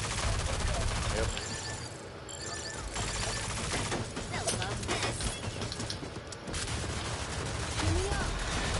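Rapid bursts of video game gunfire crackle almost continuously under a busy mix of game sounds, with overlapping shots and a brief lull near the middle.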